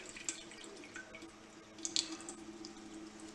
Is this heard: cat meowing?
no